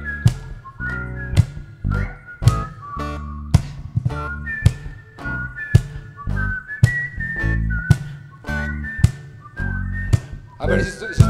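Several people whistle short, high notes in a ragged, repeating pattern, with thumping and brief voices between the whistles.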